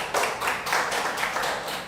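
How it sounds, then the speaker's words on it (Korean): A church congregation at a Wednesday worship service bursts into applause, dense, steady clapping from many hands filling the whole moment without talk. "하나님께 영광의 박수를."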